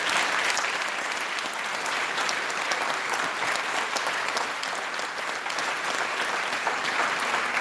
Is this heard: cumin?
no